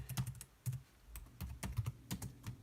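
Rapid keystrokes on a computer keyboard in short clustered bursts with brief pauses, close and fairly quiet, no voices.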